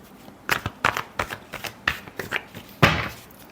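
Tarot cards being shuffled by hand nearby in a rapid run of crisp riffling bursts, about a dozen quick flutters ending in one louder final slap of the deck.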